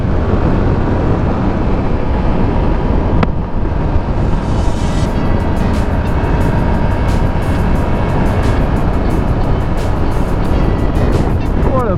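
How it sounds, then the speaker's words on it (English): A Yamaha R7 sport motorcycle revs hard during a wheelie, its engine a loud, continuous roar mixed with heavy wind rush that stays strong and steady from start to finish. "Let's see if we can get a little wheelie in real quick."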